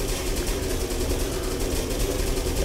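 A Spitfire Mk IX aircraft piston engine idling after startup, giving a steady, dense, continuous drone that holds even and close throughout.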